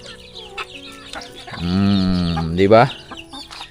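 Chickens and fairly large chicks on a farm, with a loud drawn-out harmonic call in the middle of the clip over softer clucking and background noise; a voice speaks briefly.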